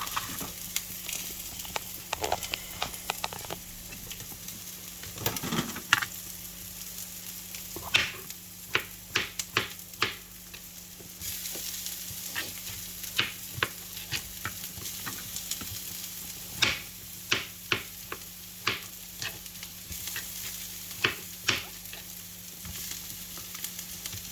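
Garlic and onions frying in a pan for a Filipino dish of dried fish, alugbati and camote tops, a quiet continuous sizzle with many sharp crackles and pops scattered irregularly throughout.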